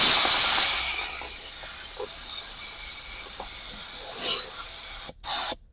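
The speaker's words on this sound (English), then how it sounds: "Air hose it." Compressed air from an air hose blasting into a car cup holder to dry it, a loud hiss at first that fades to a softer rush, then stops and gives a short final burst.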